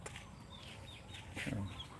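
Texas-breed chickens, survivors kept under a roof after a typhoon, clucking softly in a short series of calls with a slightly louder burst near the end.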